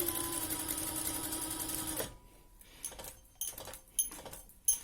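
A sewing machine stitches fabric for a roll-up pen and brush case, running in a steady hum for two seconds, then stopping, followed by scattered clicks and light handling noises.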